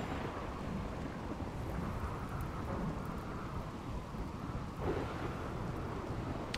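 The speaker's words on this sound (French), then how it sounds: "de toute façon il pleut." Steady rain with rumbling thunder in the video game RimWorld, a dense, even downpour with a low continuous roll beneath it, fairly faint throughout.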